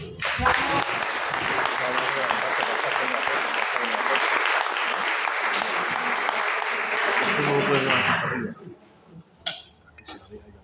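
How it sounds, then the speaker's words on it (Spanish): Audience applause at a public talk on the copla of the Auroros of Agudo, a dense, steady burst of clapping lasting about eight seconds before it fades and a single voice begins speaking. "Un aplauso para ella."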